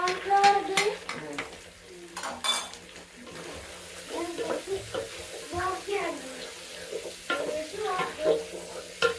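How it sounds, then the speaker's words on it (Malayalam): Chicken manchurian is stirred and fried in a pan, with clattering scrapes and a steady sizzle under a person talking throughout. "നമുക്ക് നല്ലോണം ഇങ്ങനെ ഇളക്കിയെടുക്കുക."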